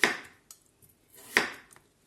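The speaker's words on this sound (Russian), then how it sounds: "И мы будем эту картошечку нарезать вот такими" A knife cuts through potatoes into rounds on a board, giving two sharp, separate chops with small taps between them. The chops are close and fairly quiet, with no talking.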